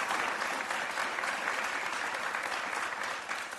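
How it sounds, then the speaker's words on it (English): Audience applause fills a school governing board meeting, steady dense clapping from many hands in a room, continuous and fairly loud throughout with no talk over it. "I think we can all clap for this"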